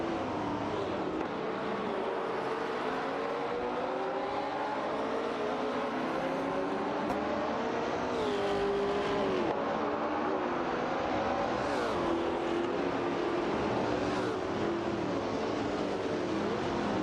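Race cars in a video game's AI race roar continuously, with several engine notes rising and falling as they battle closely for position; the engines are loud and unbroken throughout, with no talking.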